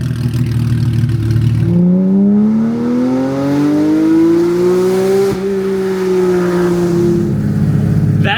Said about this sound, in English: It's a cup car. Oh, the sound of it echoing off the rock walls.